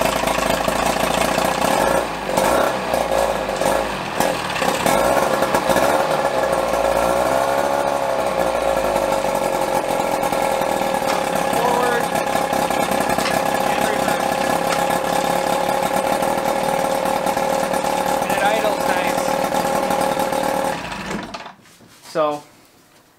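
A boat engine runs steadily and idles on a cold day, its droning hum loud and continuous with a few small revs, then it cuts off near the end followed by a brief knock.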